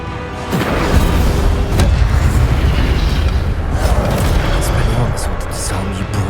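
Fiery blast bursting from the Incendio spell in the Hogwarts Legacy forest, a loud booming roar that rushes in after a short start and stays dense and sustained, with a cast shout over it.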